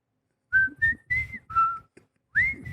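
A man whistles a melody in a series of clear, bright tonal notes, five short phrases with gaps between them, close to the mic and without talking.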